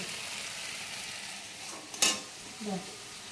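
Chicken curry masala frying in a pan, a steady close sizzle with a brief clink of a spoon against the pan and a soft scrape of stirring near the end.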